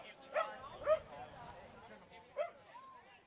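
A dachshund at wiener dog races lets out a few short yips and barks, three sharp bursts spaced over a few seconds, heard close amid a person's voice talking at the same time.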